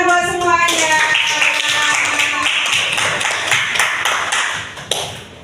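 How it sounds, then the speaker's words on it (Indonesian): A sixth-grade class claps hands together in a lively burst, with sharp taps and a brief ringing tone at the start, loud and close throughout. "Oke, tepuk tangan buat semuanya."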